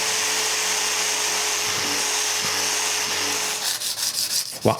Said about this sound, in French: j'utilise ma sableuse linéaire et je sable tous les morceaux